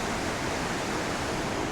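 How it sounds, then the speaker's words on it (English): Waterfall near Jardín, Colombia, giving a steady, dense broadband roar that holds evenly throughout, loud and continuous with no voices over it. "I can definitely hear it's definitely a waterfall here."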